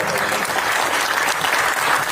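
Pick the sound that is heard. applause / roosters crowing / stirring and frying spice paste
applause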